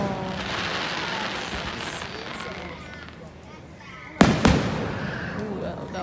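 Fireworks burst outdoors, with a sharp loud bang followed by a second crackling blast near the end, over a steady hiss of background noise and faint voices.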